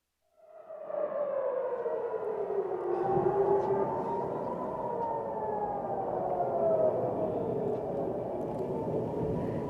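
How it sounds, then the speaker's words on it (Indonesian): Air raid warning sirens wail during an Iranian missile attack on Tel Aviv, a loud, sustained rising and falling tone that starts abruptly and holds steady with layered sirens overlapping. "Sirine peringatan berbunyi"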